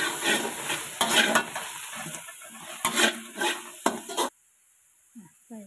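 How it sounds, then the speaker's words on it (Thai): Stir-frying in a pan over high heat for a Thai-Lao kaeng om curry, with a steady sizzle under repeated scraping and clanking of the spatula, and someone talking, until the frying stops abruptly near the end. "ผัดให้สุกก่อนนะคะผัดให้สุกแล้วปรุงรสเสร็จแล้วเราค่อยใส่นะ"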